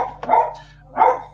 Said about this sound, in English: my dog started barking for no reason